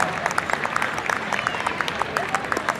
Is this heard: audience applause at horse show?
yes